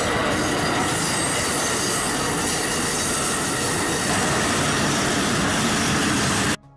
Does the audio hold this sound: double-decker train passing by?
yes